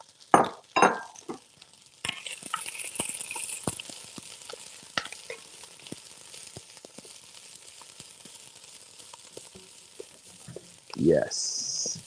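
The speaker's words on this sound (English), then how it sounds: "we're going to drop the celery. That's celery. And the onions. I just like to cook them down." Celery and onions hit a hot soup pot for smoked chicken soup, giving a faint sizzle with spoon stirs, scrapes and clinks of pot and glass scattered through.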